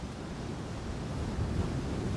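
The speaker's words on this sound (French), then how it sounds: "La zone de plage, qui n'est plus protégée par un banc, est attaquée par la houle." Ocean swell rolls onto an eroding sandy beach in French Guiana near Cayenne, a steady broadband wash of surf mixed with gusty wind rumble and no voices.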